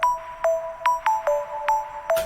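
Bell-like synth tones built from a pure sine-style wave, struck in a steady repeating pattern of about six notes, each with a sharp bright attack and ringing decay, with harsh, glassy highs in a dark electro track.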